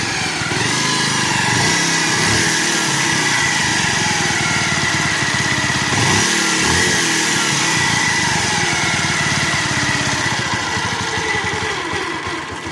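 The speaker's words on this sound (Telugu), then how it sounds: "మీరు ఇంజిన్ బీటింగ్ అయితే విన్నారు కదా" A Bajaj Pulsar motorcycle engine with a knocking fault runs steadily and loudly up close, a constant buzzing drone that varies little for the whole stretch.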